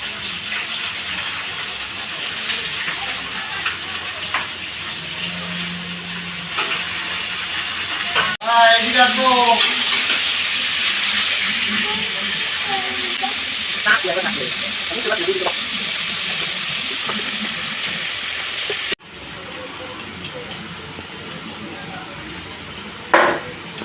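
Fish frying in a pan, a steady broadband hiss of sizzling oil that runs through the clip, with voices talking over it in the middle stretch.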